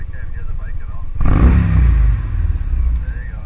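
A motorcycle ridden by someone wearing a Sena 20S helmet intercom, with a GoPro backpack clip, gives a low rumble of engine and wind that swells suddenly and stays loud under a talking voice before easing off.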